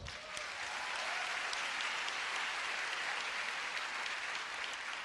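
A conference room audience of Southeast Asian and international leaders gives steady, dense applause that holds evenly at full strength from start to finish with no talk over it.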